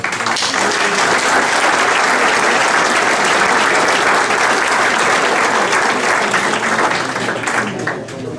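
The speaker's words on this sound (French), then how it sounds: "Un autre applaudissement sur vous" Sustained audience applause at a golf tournament dinner, a dense, loud, even roll of many hands clapping together in a hall that tapers off slightly at the close.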